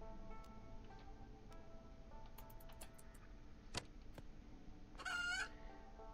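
Chicken clucking inside a video game, a short bright warbling call over steady game background noise with scattered ticks and clicks, no speech.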